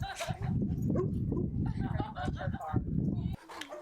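Large breed rescue dogs, St. Bernards, bark, yip and whimper in short bursts amid a busy background, with talking underneath.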